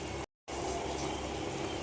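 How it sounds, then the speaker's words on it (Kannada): Salted water starting to boil in a cooking pot at home, a steady, soft hiss and bubbling heard close up, broken by a brief moment of silence. "ನೀರು ಕುದಿಯೋಕ್ಕೆ ಸ್ಟಾರ್ಟ್ ಆಗಿದೆ."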